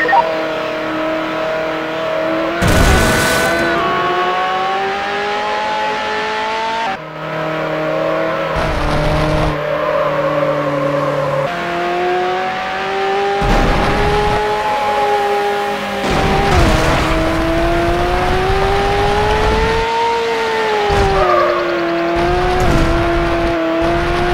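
A red Ferrari 360 Spider racing in Need for Speed Hot Pursuit 2, its engine loud and close, revving up through gears with repeated shift drops and bursts of noise, plus short crashes or squeals along the way.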